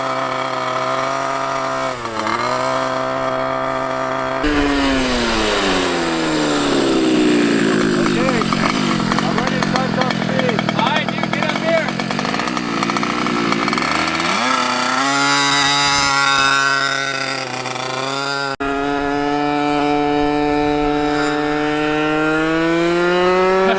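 A 2-stroke racing go kart screams past at top speed, its high-pitched buzzing engine rising and falling in pitch as it approaches and recedes, loud and close, with people talking over it.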